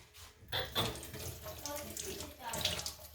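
Kitchen items are rinsed under a running faucet at a sink, with water splashing and gurgling continuously and soft knocks as items are handled, close up, with some quiet voice in the background.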